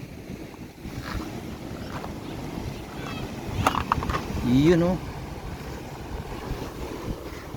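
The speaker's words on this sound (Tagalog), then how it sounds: "Tapos dito naman ang banggaan ng mga alon" Waves crash against a rocky shore with a rough, continuous wash and rumble, swelling louder midway, while someone talks over the surf.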